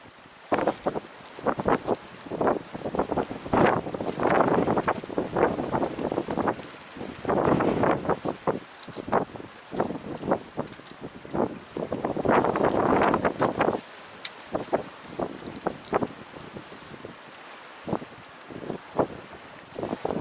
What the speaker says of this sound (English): 22-mile-an-hour winds.